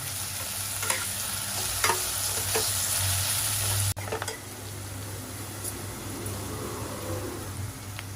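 Ginger-garlic paste and masala for a Koli-style prawn curry stir-fry in a pan, a constant close sizzle with periodic scrapes of the spoon, then a slightly quieter frying after a brief clatter.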